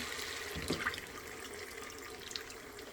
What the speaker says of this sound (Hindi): 1 कप पानी डाल देते हैं